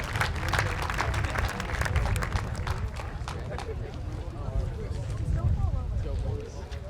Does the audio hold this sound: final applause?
yes